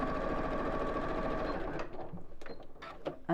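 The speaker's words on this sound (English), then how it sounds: "I'm sewing around the bottom 3 sides of the bag" Sewing machine stitching around the bottom three sides of a bag flap, a fast continuous mechanical whir that runs steadily, then slows into uneven bursts and stops with a few clicks near the end.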